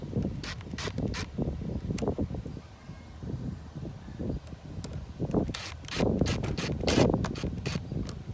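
A high-torque power impact gun loosening bolts on a 2.4L dual VVT engine while getting at the thermostats sounds as dense bursts of mechanical rattling and clattering, close and steady with short gaps.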